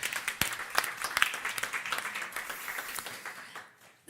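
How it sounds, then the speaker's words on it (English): Audience at a German-Norwegian literature festival in Oslo applauds the organizer, with dense, lively clapping that fades out at the end. "So I just want to give a round of applause for the organizer."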